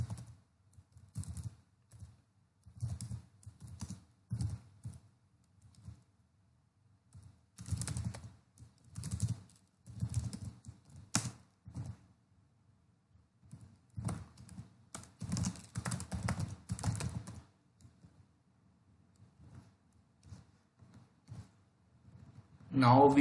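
Bursts of typing on a computer keyboard while code is written, clustered runs of close key clicks separated by pauses, with a voice talking over parts of it.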